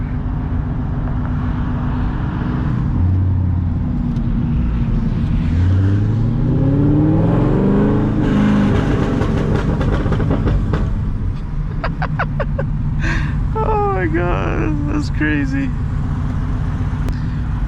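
A Chevrolet Corvette C6 with an LS V8 revs loud and close, engine note rising and falling through several throttle blips while someone talks excitedly over it.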